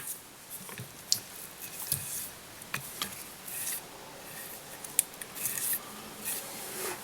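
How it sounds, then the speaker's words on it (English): Small scissors trimming fly-tying fibre, a series of crisp, close snips and light clicks at an irregular pace, some sharper than others, over a quiet background with no talking. "we cut block ends, we need to just slightly trim that down"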